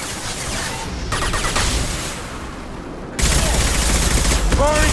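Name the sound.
concussive shot and gunfire in video game Mass Effect 2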